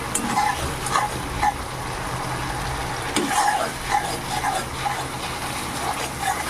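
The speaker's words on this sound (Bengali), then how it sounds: "এইভাবে নাড়াচাড়া করে মশলাটাকে কষিয়ে নিতে হবে খুব ভালো করে" Masala spice paste is stirred and fried with onions in a pan for a katla fish curry, giving a steady low sizzle broken by scraping and clinking stirring strokes, with no talking.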